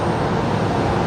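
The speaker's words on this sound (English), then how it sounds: "We've got Qantas Link 1967 rolling now." A QantasLink airliner rolls for departure on the runway at Brisbane Airport at night, a steady, broad jet-engine roar that holds loud and even throughout the short moment.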